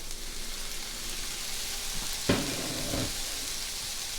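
Shallots and garlic frying in a pan over fairly high heat, a steady close sizzle throughout with a brief clatter and stir about halfway through.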